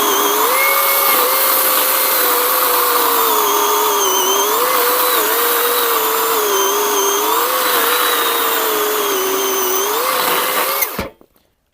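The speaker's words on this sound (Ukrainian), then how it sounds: "Пилка не високооборотиста, але коли ви її чуть-чуть нагружаєте, вона додає оберти." A Grosser GCS 120SF cordless chainsaw whines at a steady pitch that rises and dips as it bites into a small-diameter pine log. It runs loud and near for about eleven seconds, then cuts off.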